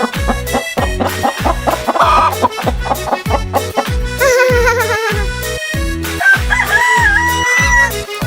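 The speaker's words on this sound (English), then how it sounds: "I am feeding the chickens." Farm chickens cluck and a rooster crows in short rising calls over a loud, steady rhythmic music beat.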